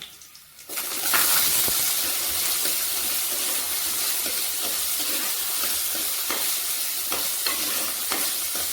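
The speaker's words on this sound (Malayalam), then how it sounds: "3-4 അല്ലി വെളുത്തുള്ളി അരിഞ്ഞതിടാം. കൂടെ കുറച്ച് കൊച്ചുള്ളി ഇടാം" Chopped garlic and small shallots hit hot coconut oil in a clay pot, bursting into a loud, steady hiss that carries on unbroken after a short quiet start.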